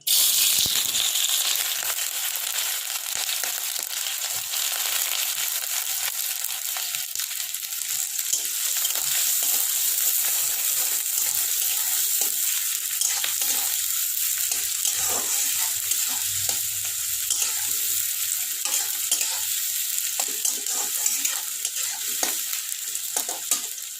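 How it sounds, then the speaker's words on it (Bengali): Chopped onions fry in hot mustard oil in a kadai, giving a steady, loud, dense sizzle with occasional stirring scrapes throughout, and no voices. "তেলটা গরম হয়ে গেছে, এবার আমি পেঁয়াজ কুচিগুলো দিয়ে দিচ্ছি তেলে।"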